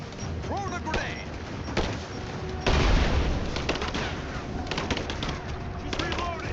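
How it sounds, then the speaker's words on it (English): Firefight gunfire in Rise of the Tomb Raider: sharp bursts of shots and automatic fire crackle at varying distances, with a big close blast in the middle, while voices shout over the combat. "Give me covering fire! Covering fire!"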